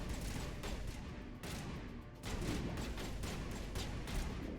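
Continuous gunfire from a video game battle, a dense, steady stream of shots and rumbling impacts at an even loudness throughout, with no voices.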